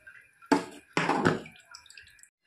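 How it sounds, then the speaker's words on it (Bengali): Jaggery is poured into simmering milk in a pot, making two brief splashing gushes close by, followed by faint bubbling that fades away. "এখন আমি এর মধ্যে গুড়টা ঢেলে দেব।"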